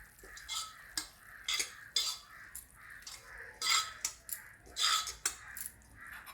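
Cooked mushrooms scraped and lifted out of a pan with a spoon after the gas is switched off, giving a series of close, irregular metallic clinks and scrapes with no talk.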